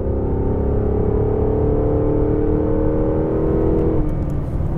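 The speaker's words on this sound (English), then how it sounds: "Exhaust sounds perfectly judged. You know, it's like throaty." A Cadillac XLR climbs a hill under acceleration, its throaty exhaust droning loud and steady with a rising engine tone before easing off near the end, heard from inside the car.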